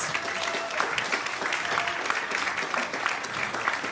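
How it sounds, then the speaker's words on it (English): An audience applauds the gold and silver sponsors at a Hawaii Island community event, giving steady, dense clapping that holds even throughout and sounds fairly close, with no talk over it. "Can you please give our gold and silver sponsors a round of applause?"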